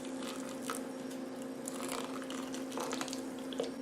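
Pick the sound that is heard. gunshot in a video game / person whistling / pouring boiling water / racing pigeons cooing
pouring boiling water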